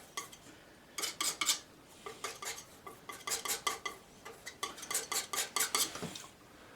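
Palette knife scraping oil paint onto canvas while painting heavier trees, a series of short rhythmic scraping strokes in quick bursts of three to five, close and fairly faint, with brief pauses between groups.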